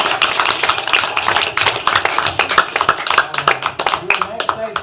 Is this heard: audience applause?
yes